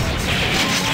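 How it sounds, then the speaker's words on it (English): A rocket launcher fires in the arcade game Metal Slug 6, a dense, loud, crashing blast of game explosion noise filling the whole second. "Rocket launcher."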